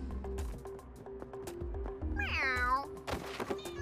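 A cat gives a clear, drawn-out meow amid faint background clatter and soft thumps, fairly close.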